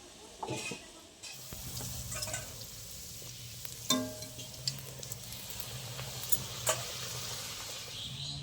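Luchi fry in a reduced amount of oil in a wok, a close, steady sizzle with occasional scraping and clinks of a utensil against the pan, and no talk.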